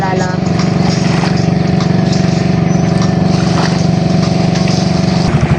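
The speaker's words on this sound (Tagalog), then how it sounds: "Ayan po, may patating na po na isang bangka." A loud, steady fishing boat motor drones close by with a constant low rumble, with faint voices under it.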